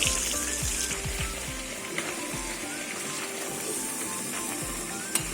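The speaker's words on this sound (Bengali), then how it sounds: "মাছের মাথাগুলো একটু কড়া করে ভাজতে হবে" Katla fish heads fry in oil, a steady close hiss of sizzling that runs the whole time with a few faint knocks, no voices.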